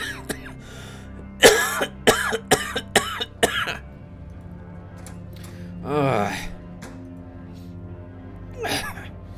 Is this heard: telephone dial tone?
no